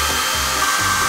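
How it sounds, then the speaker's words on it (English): A hair dryer runs steadily, its continuous airy whoosh and motor whine loud and close with no other sounds. "But a hairdryer can't be a bad guy."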